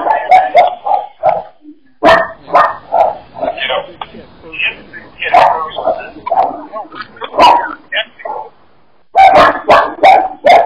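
A dog barks repeatedly in short sharp bursts with some yips, close and loud, in irregular clusters with brief pauses, heard over an amateur radio roundtable.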